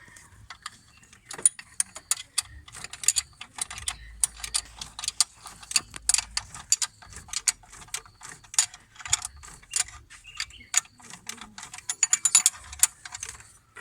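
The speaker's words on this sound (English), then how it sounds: "So we need a 17 spanner to do that." A 17 mm spanner tightens a starter motor bolt on a Golf 3, giving a long run of quick metallic ratcheting clicks in irregular bursts, close and fairly crisp.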